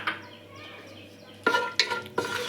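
Cashews roast in hot ghee and sunflower oil with a soft background sizzle, broken by three sharp clinks and scrapes of a spoon against the pan in the last second.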